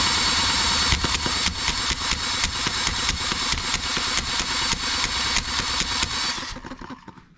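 An H73 engine sputters and fires in a quick run of uneven pulses for several seconds, then fades out as it dies down near the end.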